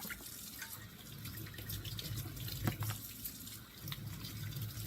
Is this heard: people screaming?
no